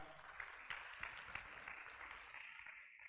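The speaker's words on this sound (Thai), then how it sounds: "ปรบมือให้กับตัวเองดังๆอีกรอบหนึ่งครับ" Members of a Thai seminar audience on health-service teamwork applaud themselves in a fairly faint, steady patter of clapping with a few sharper claps standing out, lasting about three seconds.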